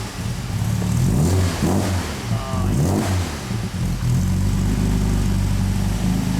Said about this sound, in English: Let me just get a little exhaust note.